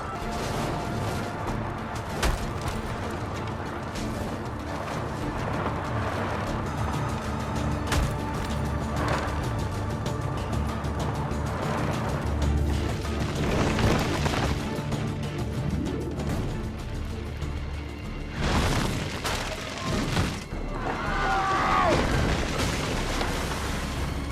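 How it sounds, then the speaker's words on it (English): Booming firecracker-like explosions in an Assassin's Creed 2 cutscene, several loud bursts scattered through a dense, busy mix of music and effects, with brief talk in places. "Probably just kids with firecrackers."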